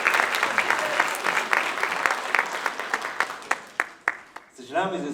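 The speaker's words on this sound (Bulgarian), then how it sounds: "Аплодисменти." Studio audience applauds on a Bulgarian TV quiz show after a correct answer, a dense burst of clapping with sharp claps that thins out, then a brief murmur of voices at the end.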